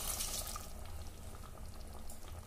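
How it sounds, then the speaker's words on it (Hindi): About a bowl of water is poured into a hot mutton curry masala in the pan, giving a continuous, fairly close bubbling hiss and splash that holds steady throughout. "लगभग एक कटोरी पानी डालेंगे"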